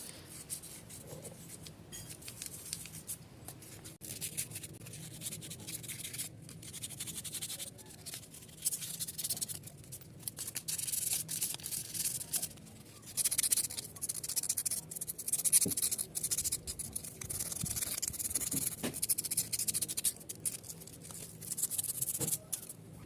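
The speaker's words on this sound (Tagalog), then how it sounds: "kuskusin na po natin hanggang sa matanggal yung mga kalawang" Rough, uneven scraping and scrubbing of rust off a seized front brake caliper, in quick bursts that continue steadily, fairly faint and close.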